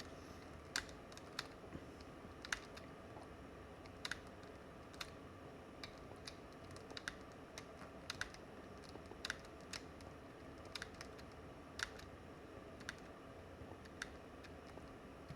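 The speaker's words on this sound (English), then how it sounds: "I'm being lazy with how I'm hitting the keys" Computer keyboard keys are tapped in irregular bursts during a game of Minecraft, with sharp clicks scattered over fifteen seconds. They are faint and close over a low background hum, and no one speaks.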